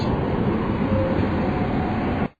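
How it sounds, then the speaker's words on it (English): A passenger train heading towards Yuen Long in Hong Kong gives a steady interior rumble and rolling noise, heard from on board, that carries on and then cuts off abruptly near the end. "I'm on the train now, going towards Yuen Long on another train."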